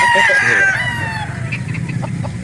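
A rooster crows loudly up close at a chicken market in Calauan, Laguna, one long cock-a-doodle-doo that trails off, followed by softer clucking and farmyard noise.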